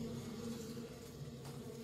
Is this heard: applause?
no